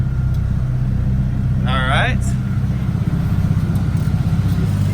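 A JZ-engined car idles close by with a steady, deep, lumpy rumble; someone briefly speaks over it partway through.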